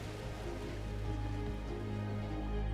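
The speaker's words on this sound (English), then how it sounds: "it's raining. Whoa, that's a big rain" Heavy rain falls steadily in the city-building video game The Universim, a dense constant patter over a low droning game soundscape, with no voices.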